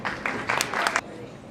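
An audience at a youth justice symposium claps to welcome a speaker, a short burst of brisk, moderately close applause that stops abruptly and leaves a quiet room.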